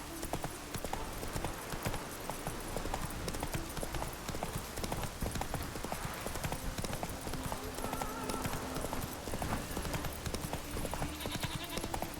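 Horse hooves clip-clop in a steady trotting rhythm in the video game The Witcher 3, continuous and fairly close amid game ambience, with a voice briefly heard.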